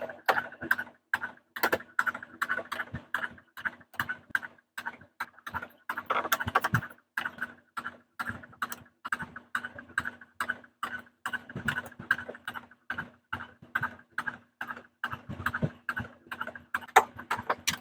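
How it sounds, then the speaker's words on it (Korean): Domestic sewing machine stitching the lining of a handle zipper pouch, starting from the end of the turning gap, running in a fast, steady rapid-fire stitch rhythm at close range with short pauses. "장구멍 끝부분부터 박음질 시작합니다."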